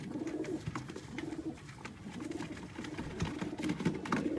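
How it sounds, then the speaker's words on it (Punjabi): Sialkoti flying pigeons coo softly in repeated low, throaty phrases that overlap in a steady murmur, with no voices. "ਸਿਆਲਕੋਟੀ ਕਬੂਤਰ ਉੱਡਣ ਵਾਲੇ ਤੇ ਦੋਸਤੋ ਰਿਜ਼ਲਟਡ ਕਬੂਤਰ"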